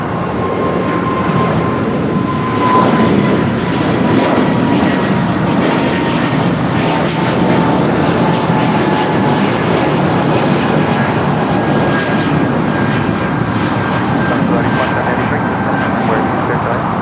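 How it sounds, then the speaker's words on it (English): An Airbus A220-300 airliner takes off at LAX, a steady, loud engine roar that holds constant and fills the whole stretch, with a faint high whine running through it. "another breeze, Airbus A22300 now taking off"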